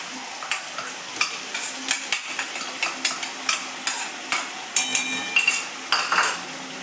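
Crushed onion cooking in a pav bhaji pan, with quick rhythmic metal spatula taps and scrapes against the pan over a light sizzle, close and steady with no voices.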